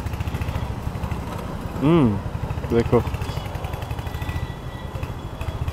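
A Royal Enfield Hunter 350 running on a cold engine, a steady close low thumping idle with an even beat, while someone speaks briefly over it.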